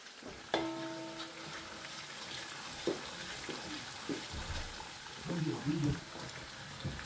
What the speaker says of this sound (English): Now I'm gonna add my egusi paste and allow to fry.